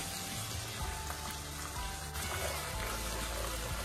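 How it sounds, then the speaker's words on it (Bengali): Ginger and green chili paste frying in a pan for a vegetarian dhokar dalna curry, giving a steady low sizzle with soft crackles throughout and no talking. "আদা আর কাঁচা লঙ্কা একটু ভেজে নিয়ে যখন আদার কাঁচা গন্ধ চলে যাবে তখন দেবো আমি টমেটো বাটা"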